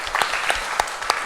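A brief burst of clapping from a church congregation at a Wednesday prayer meeting, steady and moderately loud, without voices.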